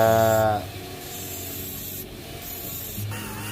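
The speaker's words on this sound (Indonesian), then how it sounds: "saya untuk mencongkel kaleng penutupnya ini saya menggunakan gerinda ya, menggunakan gerinda seperti ini" A handheld grinder cuts the metal shield cover on a Samsung A10s phone board, making a steady close abrasive rasping after a short tonal whir at the start.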